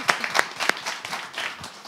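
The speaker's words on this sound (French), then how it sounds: "on va applaudir merci quand même d'avoir essayé" A small audience on a French talk show gives a short burst of clapping: a handful of distinct, close hand claps in quick, uneven succession that fade within two seconds.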